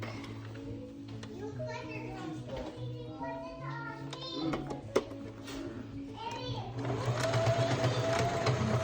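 A sewing machine stitches down the folded edge of fabric on a ruffle duvet cover, its steady motor hum running under voices and the background chatter of children.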